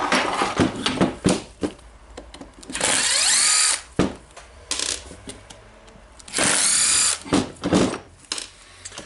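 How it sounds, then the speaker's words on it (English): Screws being driven out of a Makita BJV180 jigsaw with a power driver, two sustained whirring bursts of a few seconds each amid close clicking, rattling and handling of metal parts. "as the screws are removed, I can lift the part here"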